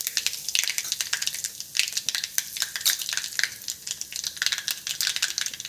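Mustard and cumin seeds with asafoetida crackle in hot peanut oil for a Gujarati tempering. Close, busy popping and spitting keep up a steady, lively sizzle with no voices.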